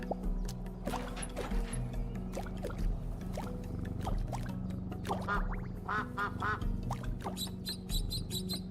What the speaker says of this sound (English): I can quack like a duck.